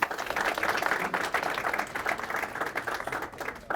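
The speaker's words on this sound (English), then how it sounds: "Another wonderful applause for this gentleman right here." Audience applause for a gentleman at an afternoon event, a steady dense wash of many hands clapping at moderate loudness, continuous throughout without talk over it.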